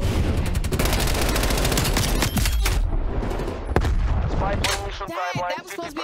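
Rapid bursts of MP5 submachine gun fire in Black Ops Cold War multiplayer, loud and close, rattling continuously for several seconds before giving way to scattered shots and game effects near the end.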